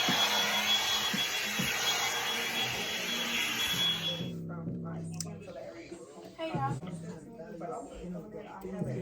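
A hair dryer blows steadily on a wet wig being prepared for installation, a loud whooshing roar that cuts off about halfway through, after which people talk casually nearby.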